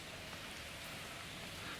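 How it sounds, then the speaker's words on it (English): Steady rain hisses down as a constant wash of noise, faint and even throughout, with no voices. "it's raining absolutely cats and dogs today"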